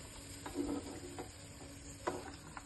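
Raisins frying in ghee for a Nenthra pazham sweet make a faint, soft sizzle with scattered small pops and ticks and a brief louder crackle near the end, with no talk.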